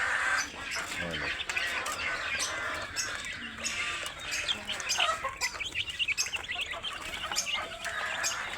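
Rhode Island Red chickens cluck and chirp on a farm amid busy outdoor noise, with a person talking over the birds throughout.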